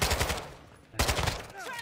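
An automatic gun fires in Call of Duty: Modern Warfare II, with two loud rapid bursts separated by a short pause and close, crackling shots.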